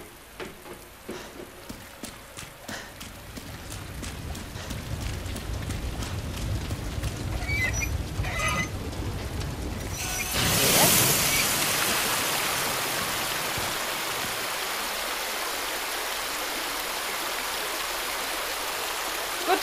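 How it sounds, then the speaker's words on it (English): Running water turned on in the Resident Evil 2 Remake video game: after a stretch of clicking mechanical sounds, a loud rush of flowing water bursts in and continues as a steady hiss. "I think that was me turning the water."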